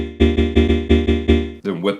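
Sampled vocal chords played unprocessed in a Logic sampler, repeating in six short rhythmic stabs of a sustained sung chord, followed by a brief spoken voice.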